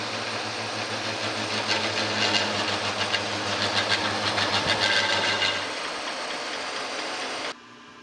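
An old New Haven metal planer cutting a new shaft, its steady mechanical hum carrying a rapid rattling chatter from a dulling cutter, loud and close, before the drive winds down and the cut ends.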